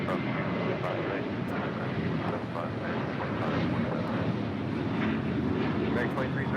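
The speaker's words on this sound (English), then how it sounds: "This is American 2308 departing to Raleigh-Durham on a 737-800." American Airlines Boeing 737-800 departing LAX, a steady loud roaring jet rush that fills the whole stretch, with radio voices talking faintly underneath.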